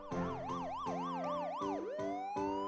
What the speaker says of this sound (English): I could hear loud sirens, definitely a fleet of police cars coming this way.